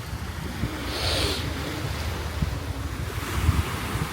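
Ocean waves wash and break nearby at Hat Samaesan beach, Thailand, with a steady rushing surf, mixed with gusts of wind buffeting the microphone.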